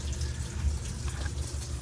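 A washing machine set to the normal cycle fills with water, giving a steady close hiss and gurgling rush with no voices.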